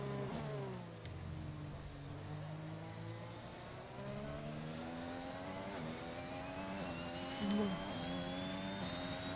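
Ferrari Formula 1 engine in F1 2021 at the Canada race, a high whining drone rising and falling through gear shifts, steady and moderately loud with another car's tone layered over it.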